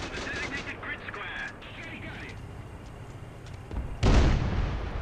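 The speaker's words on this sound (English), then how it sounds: "let's shoot the turret" A FIAT 6614 armored car firing at a turret in War Thunder: a quiet stretch with faint voices and engine hum, then a single loud, heavy cannon boom that rings out near the end.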